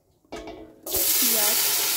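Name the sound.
dried chillies and bay leaves sizzling in hot oil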